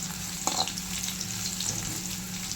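Curry leaves, crushed garlic, fenugreek and pepper frying in oil for a fish curry, a steady close sizzle with a few brief stirring scrapes, no talking.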